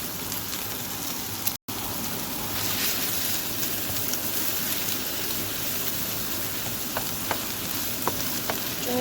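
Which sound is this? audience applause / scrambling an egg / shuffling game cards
scrambling an egg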